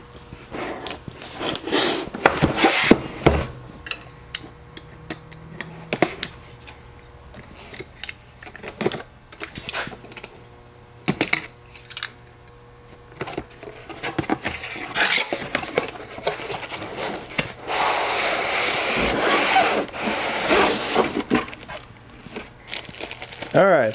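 Cardboard and plastic packaging rustle and crinkle in bursts as a Porter Cable brushless drill and impact driver kit box is opened, with scattered clicks and handling noises.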